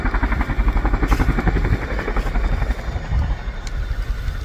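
A Chinook twin-rotor helicopter touching down during an air display at RAF Fairford, its loud, rhythmic blade chop thumping steadily over a deep turbine roar at close range.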